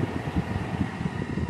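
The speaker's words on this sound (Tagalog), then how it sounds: "itudo pa yung blower na yan" Full-speed air conditioning blower fan in a 2013 Toyota Avalon/Aurion, a steady close whooshing hum of moving air with a low rumbling undertone, continuous and unbroken throughout.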